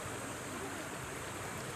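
A river current in the Daraitan region rushes steadily, a soft, even wash of flowing water that stays faint and unbroken throughout, with no clear voices on top.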